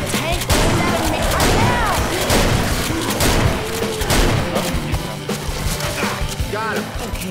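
Several players fire on the Tank in Left 4 Dead 2, a dense, loud, continuous barrage of overlapping gunshots with booming impacts throughout.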